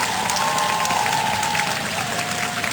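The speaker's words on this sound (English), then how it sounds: "Let's applaud this team for" An audience at a biochemistry quiz event applauds a team with steady, dense clapping throughout that stays loud and close, then cuts off abruptly.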